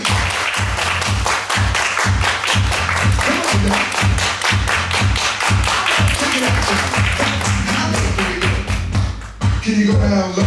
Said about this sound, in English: Everybody clap your hands.